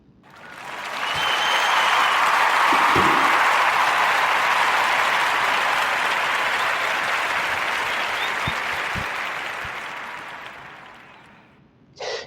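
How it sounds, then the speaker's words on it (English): An audience's applause for a podcast guest swells up quickly, holds as a full, sustained clapping for about ten seconds, then gradually tapers off. "we're going to give a narrative podcast round of applause for the brother Torrance Harvey."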